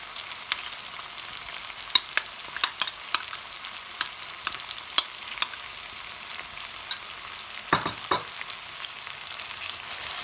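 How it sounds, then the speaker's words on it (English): Stuffed brinjal being stir-fried in masala, giving a soft, steady sizzle and frying hiss with scattered light pops and a couple of stirring knocks near the end, heard quietly with no talk. "Mix it slowly and just stir fry in this masala for about 5 minutes."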